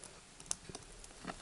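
An Arrow I-Core lock being picked, with faint, sparse metallic clicks and taps scattered over a quiet background hiss.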